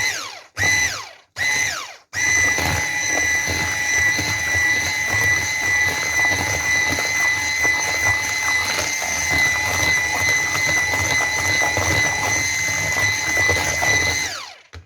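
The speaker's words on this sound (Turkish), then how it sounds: "şöyle hepsini güzelce çırpalım" An electric mixer whisks revani batter with baking powder. Three brief motor bursts start and stop, then a steady, loud whirring whine runs close by for about twelve seconds before cutting off.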